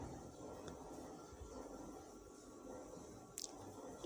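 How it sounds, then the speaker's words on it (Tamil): Cooked tomato and onion being mashed for tomato sambar, soft wet squishing close up under a low background hum, with a brief sharp clink near the end. "நல்லா மசிச்சு விட்டுக்கலாம்."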